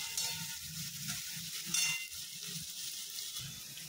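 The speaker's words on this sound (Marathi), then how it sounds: "आता टाकते कांदा. आता कांद्याला थोडंसं शिजू देते." Chopped onion frying in a pan for pav bhaji gives off a faint, steady sizzle with a few soft stirring scrapes, close and quiet with no voices.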